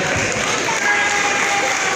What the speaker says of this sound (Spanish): Un aplauso para la niña.